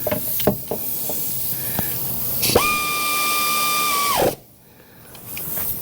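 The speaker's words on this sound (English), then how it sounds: "It's a really loud air ratchet." A loud air ratchet with a 14 mm socket whirs steadily on a bolt during a Mazda SkyActiv alternator replacement, with a high whine for about two seconds before it cuts off abruptly, followed by a short hissy lull.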